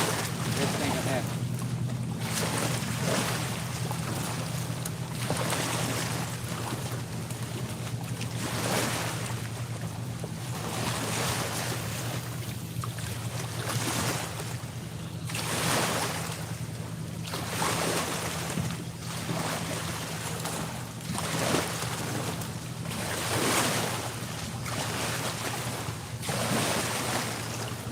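Barges pass on a river near a fishing spot, a steady low engine drone with broad rushing wash and wind buffeting the microphone throughout, fairly loud and continuous.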